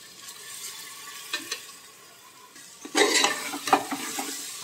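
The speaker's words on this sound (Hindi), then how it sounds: "मसूर की दाल हम इसे डालेंगे पहले।" Masoor lentils tipped into a sizzling mutton masala in a pan: a steady low frying hiss, then a louder burst of sizzling and stirring scrapes partway through, with no talking.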